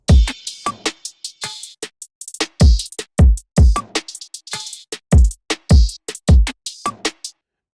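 A mixed hip hop drum loop plays loud and close, with punchy kicks and snares in a steady groove under crisp, clipped hi-hat ticks, then stops abruptly into silence.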